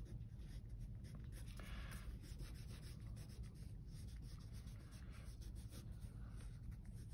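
A pen writes by hand across paper with steady, continuous scratchy strokes, close and fairly loud, running without pause for about seven seconds and with no voices.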